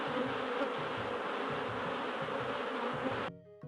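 Dense, steady insect buzzing from a beehive in the game Anasazi, loud and continuous, pulsing slightly, then cutting off abruptly near the end, leaving only faint tones.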